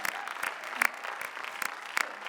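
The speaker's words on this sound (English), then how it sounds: "And it was, yes, applaud them." Audience applause for nursing students at a school of nursing awards evening, a short burst of steady clapping with a few sharper individual claps, moderately loud.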